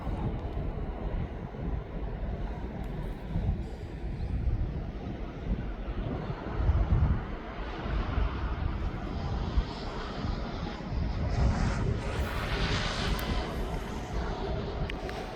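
An Airbus A306 at East Midlands Airport gives a distant jet engine rumble mixed with wind noise on the microphone, a steady roar that swells slightly toward the end.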